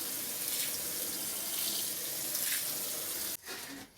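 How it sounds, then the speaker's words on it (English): Water pours steadily onto soil in a garden plant container, a continuous close splashing rush that stops abruptly near the end, followed by a brief trickle. "give it a really good watering"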